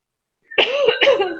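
A person coughs twice in quick succession, loud and close, after a moment of silence, each cough harsh and throaty.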